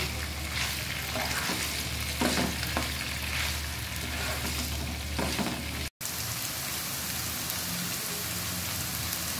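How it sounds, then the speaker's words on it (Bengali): Sliced beans, cauliflower, carrot and pointed gourd fry in a pan for noodles. A dense, even sizzle runs throughout, with faint stirring scrapes and one brief dropout midway. "ফুলকপি, গাজর, পটল। ভালো করে ভেজে নেব।"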